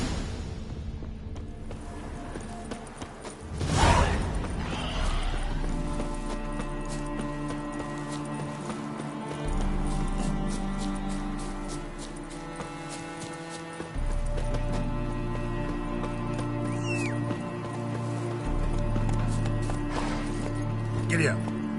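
Horse hooves clip-clop in The Witcher 3 on PS5, a steady galloping rhythm running under a continuous game music score, with a neigh near the start and no speech over it.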